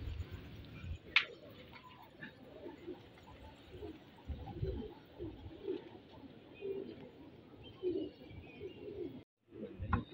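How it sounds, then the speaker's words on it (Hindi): Pigeons perched on a bush give soft, repeated cooing in a quiet outdoor setting, with faint chirps and a few light knocks in between. "ये अभी झाड़ पे बैठे हुए कबूतर"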